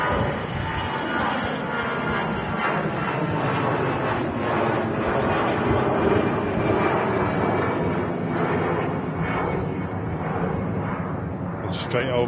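A Finnair Airbus A319 departs Manchester Airport with a loud, continuous jet roar that holds steady throughout. People talk over the engine noise.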